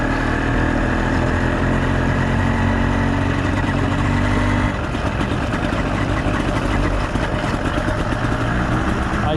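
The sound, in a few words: 85cc iron sleeve motorized bike engine idling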